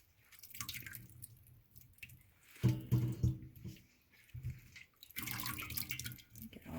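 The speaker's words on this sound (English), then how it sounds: "take the leaves and swish them around one last time as you pull them out of the water" Lettuce leaves are swished through water and lifted out, giving soft sloshing splashes and quiet dripping in uneven bursts, close and faint.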